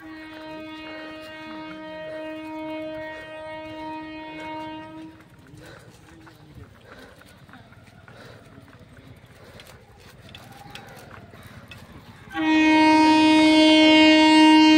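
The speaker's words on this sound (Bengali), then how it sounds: "এখন ট্রেন আসছে," A train heading toward Suri station sounds its horn, a long sustained blast, then rumbles nearer for several seconds before a second, much louder and closer horn blast, with no talk.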